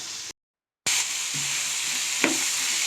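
Carrot and capsicum stir-fry in a pan with a loud, steady hiss of sizzling broken by a brief silent gap, with a few faint scrapes and a single clink of stirring.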